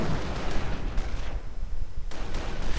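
Heavy anti-tank gun fire in a World War II strategy video game, with loud booming shots and explosions that blur into a dense, continuous barrage of blasts.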